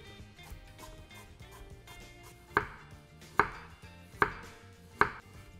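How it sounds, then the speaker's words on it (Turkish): A chef's knife slicing through carrot on a cutting board, thick and thin cuts, with four crisp, evenly spaced chops after quieter background sounds, close and clear. "Havucumuz var. Hem kalın keselim hem ince keselim."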